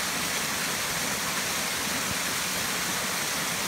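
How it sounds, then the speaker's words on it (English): Waterfall at Secret Falls near Woodsville, New Hampshire, pouring in a steady, unbroken roar of rushing water that stays loud and close the whole time on a rainy day, with no voices. "Climbing in altitude and you find even more falls."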